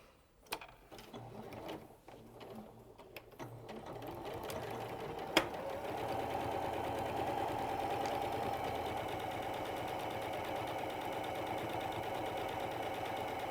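Sewing machine running steadily as it stitches around appliqué fabric pieces for a fox and dog wall hanging, a continuous close mechanical whir after a few brief starting bursts.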